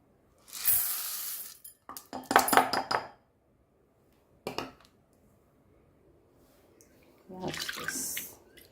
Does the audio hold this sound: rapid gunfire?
no